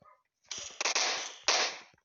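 Gunfire in the mobile battle-royale game PUBG Mobile: a loud burst of rapid shots, a short pause, then another sharp volley, heard close with no talking.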